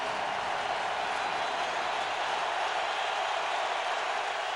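A dense, steady roar from a packed football stadium crowd at a Patriots at Colts game, loud and unbroken throughout with no distinct voices standing out.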